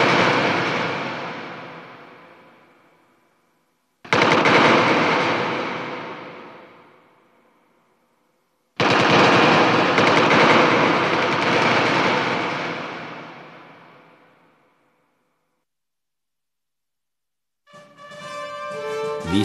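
Three long, booming blasts of World War I gunfire each roll and fade slowly over several seconds, with gaps of silence between them, and a different tonal sound rises at the end.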